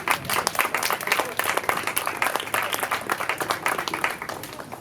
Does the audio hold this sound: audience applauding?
yes